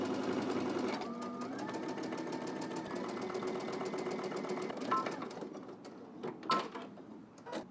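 A sewing machine runs a narrow zigzag or stretch stitch along a garment seam, a steady fast mechanical whir that speeds up slightly partway through, then stops with a few faint clicks and handling sounds.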